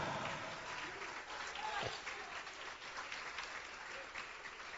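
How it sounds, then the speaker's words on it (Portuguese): A church congregation applauding the Lord during a baptism service, a continuous faint ripple of clapping heard from a distance, with a voice underneath. "Vamos aplaudir mais o Senhor Jesus."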